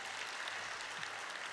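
Brief, faint applause from an audience at a stock exchange listing ceremony, a soft wash of clapping with no voices.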